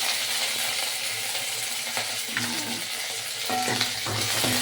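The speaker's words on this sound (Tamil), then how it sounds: "அந்த தாளிப்பு சத்தம் சிடு சிடுன்னு அழகாக இருக்கு" Curry leaves crackle and sizzle loudly in hot oil as tempering for fish curry, a steady hiss of frying with occasional sharp pops and spatters, close by.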